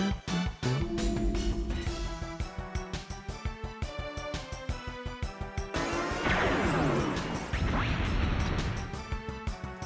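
Water gun firing in the Wild Arms video game, a loud, dense rapid-fire burst of repeated crashing shots that swells into a roaring blast, with no talk over it.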